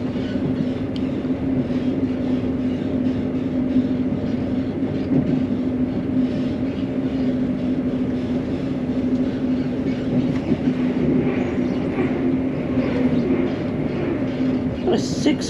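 A six-car Turbostar diesel train rumbles steadily with a continuous low engine drone throughout, heard close from on board, with a voice speaking over it.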